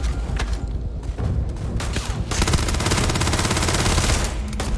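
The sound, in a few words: shotgun fire in the video game Starfield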